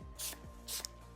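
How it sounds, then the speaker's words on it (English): Makeup setting spray mists onto a face in two short, close hissing bursts about half a second apart, with a faint click between them. "and get that microfine mist"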